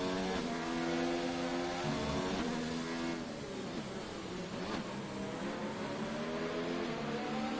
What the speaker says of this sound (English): That was a hard downshift into first gear for Jan.